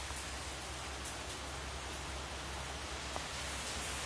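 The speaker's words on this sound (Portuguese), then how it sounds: "E com essa chuva, então." Rain falling outdoors near a stairway and gate, a faint, steady wash of hiss with no voices, continuous throughout.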